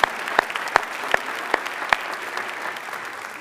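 Scattered applause from a school board meeting audience, with a few distinct, fairly sparse claps spaced out over a few seconds rather than a dense ovation, under a steady room hiss.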